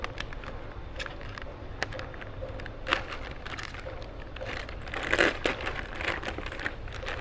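Food grade packaging from a Ford truck kit being opened, with crinkling and crumpling plastic and scattered crisp rustles and crackles over low background noise, busiest toward the end.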